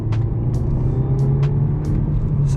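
An Audi A3 accelerates hard along a 40 road, its engine droning steadily with a low, continuous rumble heard from inside the car, with a few faint ticking sounds recurring over the drone.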